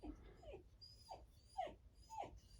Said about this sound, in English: And the puppy is still upset.